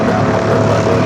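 DHL ABX Air converted Boeing 767 aircraft, a brief, loud, steady engine roar with no speech.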